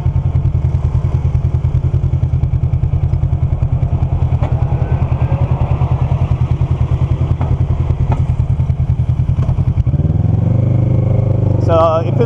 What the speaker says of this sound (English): is aggressive roll-ons and then engine braking.